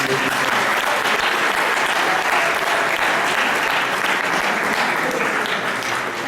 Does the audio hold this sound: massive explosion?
no